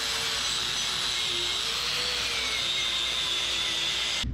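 A wire brush scrubs thick, years-old oil and grime off the engine of a 1976 GMC rig, making a continuous harsh, hissing scrape at close range with no break until it stops abruptly at the end.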